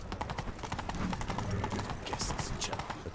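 Roach, a horse in The Witcher 3 video game, clip-clops with steady repeated hoofbeats at moderate loudness, mixed with other game sounds and a voice talking over them.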